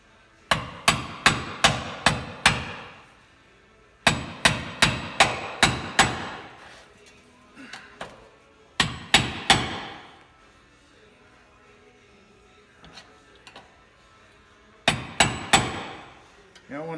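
Sharp, ringing hammer blows on metal while fitting 2015 Ford Mustang subframe bushings, struck in rapid bursts of five or six, with pauses between the groups.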